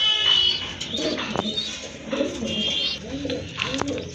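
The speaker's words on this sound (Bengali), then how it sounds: "একজোড়া রাজগোল্লা কবুতর সম্পূর্ণ রানিং এটা ডিম বাচ্চা করানো একটা কবুতর" A pair of Rajgolla pigeons, a breeding pair kept for eggs and chicks, coo softly in repeated low phrases close by, alone without talk.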